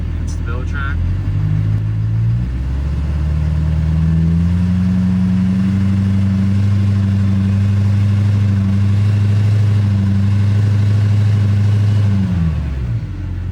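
Diesel truck engine with a newly installed Edge CTS 3 tuner revs up and holds a steady loud drone for about ten seconds before dropping back, close and continuous, with talk over it.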